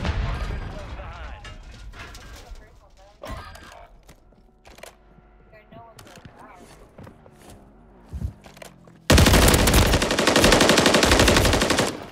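Video game gunfire with machine guns, bursts and single shots through the first part, then a loud sustained stretch of firing at the end, with players talking over it.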